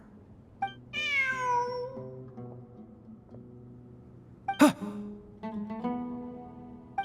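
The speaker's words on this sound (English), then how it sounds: "Look, a cat." Cat meowing in Genshin Impact, a clear drawn-out meow followed by a sharper, shorter cry and softer mews, close and distinct over quiet ambience, with a brief murmur from a person.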